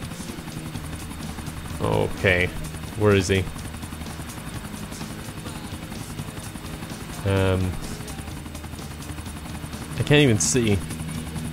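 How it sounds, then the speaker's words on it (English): Steady, loud helicopter rotor drone from the game GTA 4, running without a break under a man's short bursts of talk. "once I get out of this helicopter, I don't have to worry about these controls anymore"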